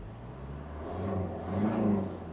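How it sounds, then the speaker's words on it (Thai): Steady low engine rumble of a Toyota Commuter van's 3.0 diesel engine idling close by, with a slight rise in pitch and loudness partway through, no voices. "ฟังเสียงเครื่องยนต์พร้อมกันนะครับ"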